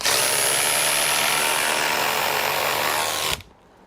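Two hydraulic impact drivers, a DeWalt and a Hikoki, run side by side driving screws in a race. They make a steady, loud buzzing drone for about three seconds, then stop abruptly, leaving only a faint background.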